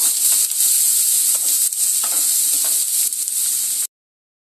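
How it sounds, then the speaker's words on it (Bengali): Chopped onion frying in a pan with oil for chicken keema, a loud steady sizzle close up with faint stirring scrapes, no talking, ending abruptly. "সেই পেঁয়াজটাকে পুরোটাই দিয়ে দেবো, দিয়ে একটু লাল মতো করে ভেজে নেব।"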